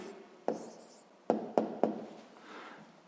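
A pen writes an answer by hand on paper during a sixth-grade maths lesson, producing a few sharp scratchy strokes and taps close by in a quiet room.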